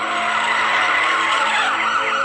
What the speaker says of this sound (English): the footage was from a dashboard cam of a police officer during a car chase